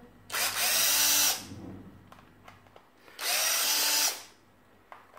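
A power screwdriver backs out screws from a Florabest 40V 2.5Ah battery casing in two loud, steady whirring bursts of about a second each, separated by quiet handling clicks.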